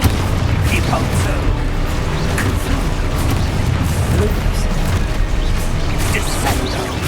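Spell explosions burst repeatedly in the video game Hogwarts Legacy, a dense, continuous barrage of booms, crashes and pops filling the whole stretch at close, loud level.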